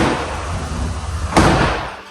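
Indi-Fold sliding and folding door panels are pushed closed, a continuous rolling rumble ending in one sharp, loud thud as a panel shuts, then a short fading ring.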